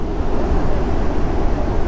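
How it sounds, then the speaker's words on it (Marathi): Dabhosa waterfall in Jawhar pours with a dense, steady roaring rush of falling water, loud and continuous with no break. "खतरनाक पाणी पडत आहे"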